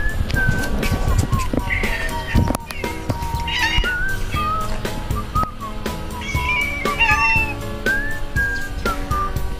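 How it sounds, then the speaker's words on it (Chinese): Several cats meow repeatedly outdoors, overlapping high calls near and far over a dense background of rustling and clatter. "猫咪全部出来了，都来看我了，来迎接我了"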